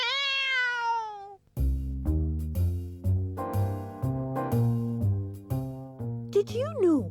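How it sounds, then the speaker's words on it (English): A cartoon cat lets out a long, drawn-out meow at the start, then bouncy musical notes follow, ending in a short rising cartoon cry. "Here comes that cat."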